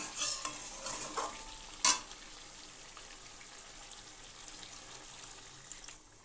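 A little water is poured into a pot of sizzling chicken curry: a brief splash and hiss near the start, then a quieter, settling bubbling sizzle with faint stirring.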